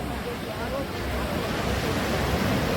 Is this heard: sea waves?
yes